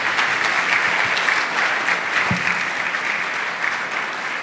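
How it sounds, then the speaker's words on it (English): An audience applauds a speaker after a talk on the gut microbiome, dense sustained clapping filling the room at steady strength for several seconds with no voices over it. "if you could give him another round of applause"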